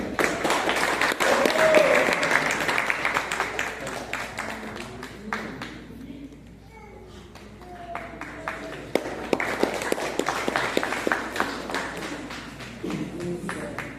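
An outdoor crowd at the Mechukha kayaking challenge 2025 applauds a kayak race winner. Dense, uneven clapping dips briefly midway, then builds again with sharp individual claps over a murmur of voices.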